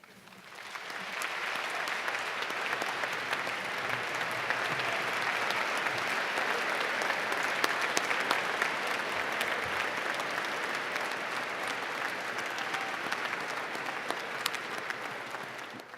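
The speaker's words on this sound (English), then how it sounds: "please join us in a round of applause for the 2018 recipients" Sustained, even applause from a large audience at the 2018 United States Naval Academy Distinguished Graduate Award ceremony, a dense wash of clapping that holds steady for about sixteen seconds.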